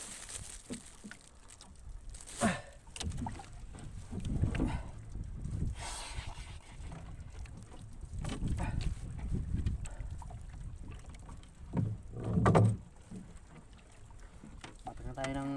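Small boat riding on cold open water, with gusty wind buffeting the microphone and irregular splashes and knocks rising and falling, and a voice speaking now and then.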